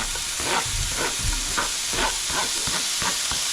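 Steady frying sizzle of peppers in a hot pan on high heat, with intermittent clatter of stirring over a constant hiss, close and fairly loud.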